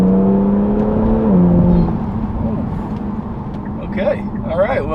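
A Kia Stinger with a JB4 tune pulls hard under light throttle and short shifting, its engine note rising then dropping at a gear change, heard from inside the cabin under a voice talking.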